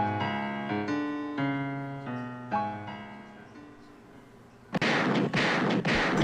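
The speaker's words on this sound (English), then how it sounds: "Gunshots is going off" Gunshots ring out on a New York City street during celebrations after a Knicks win over the Hawks: a cluster of several loud, sharp bangs arrives near the end, following a stretch of tonal music.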